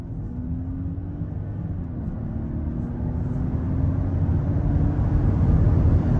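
A 2023 Range Rover Hybrid P440E accelerates hard onto a highway, heard from inside the cabin as a low engine and road rumble that swells gradually, with a faint rising engine tone and no talking.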